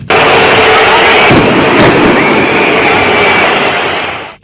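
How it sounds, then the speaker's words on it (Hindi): Firecrackers thrown by spectators burst during a football match in a packed stadium, a loud, sustained roar of blasts with sharper bangs standing out, close and overwhelming throughout. "फुटबॉल के एक मैच में तो दर्शकों ने बीच मैच में पटाखे फेंकने शुरू कर दिए।"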